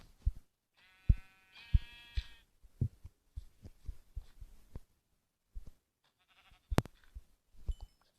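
Several short synthetic Minecraft sheep bleats, tonal and buzzy, between soft thumps and footsteps-like taps, with brief quiet gaps.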